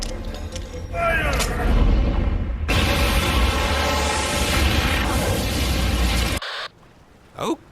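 A battleship's main gun fires, a massive sustained roaring blast with heavy low rumble lasting several seconds before cutting off abruptly, loud and close, followed by a brief faint sound.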